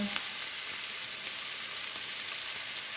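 Prawn chili fry sizzling steadily in a pan as Kashmiri chili powder goes in, a close, even crackling hiss with faint scattered pops and a brief low knock at the start.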